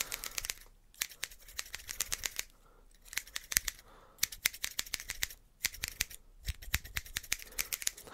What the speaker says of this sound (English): Let's use both scissors at the same time.